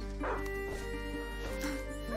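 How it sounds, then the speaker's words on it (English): Leon, a hunting dog in A Plague Tale: Innocence, gives a few short barks and yips against a steady droning game background, with no talking. "A hunting dog is not supposed to lose its hunter."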